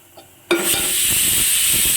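Pieces of paneer hit a hot pan and burst into a loud, steady sizzling hiss after a brief quiet moment, the frying continuing close and unbroken.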